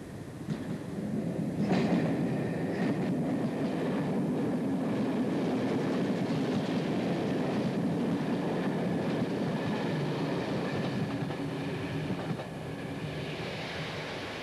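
A Hastings diesel-electric multiple unit train running along rails, a continuous rumbling roar with faint clickety-clack, fairly distant and steady, with no speech.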